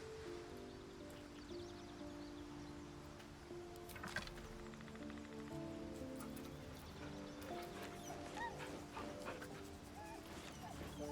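Dog whimpering, yipping and barking in the fantasy role-playing game Baldur's Gate 3, several short yelps and whines over a steady low ambient bed with faint mechanical sounds.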